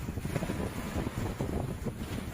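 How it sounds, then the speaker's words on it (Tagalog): Strong monsoon wind roars steadily across the microphone by the sea on Legazpi City Boulevard, a constant loud rushing buffet with no voices. "ngayon kasi habagat kasi yung hangin"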